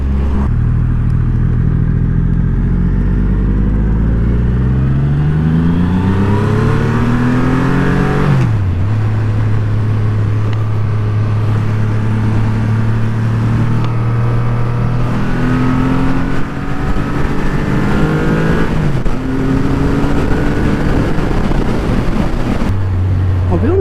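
A motorcycle being ridden and accelerating, its engine note rising steadily through several gear changes with brief dips between shifts, loud and close throughout, with wind and road noise underneath.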